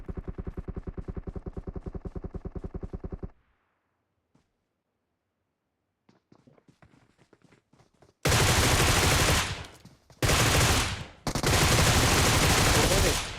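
Groza assault rifle fire in a battle royale mobile game, loud sustained automatic bursts with short breaks, coming after a stretch of voices and quiet faint game sounds.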